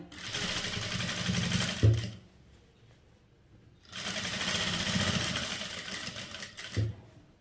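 A sewing machine stitching a nightie runs in two steady, whirring bursts of about two seconds each, close and clear, with a quiet pause between them.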